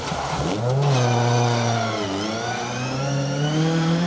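A Peugeot 205 GTI rally car engine revs loudly and close at a stage rally, climbing steadily in pitch with a brief dip and recovery over four seconds, alone with no talk.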